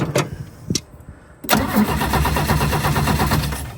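An old car, driven under its own power for the first time in over twenty years, starts with the choke pulled: a couple of short cranking attempts, then it catches and settles into a steady, rough idle close by.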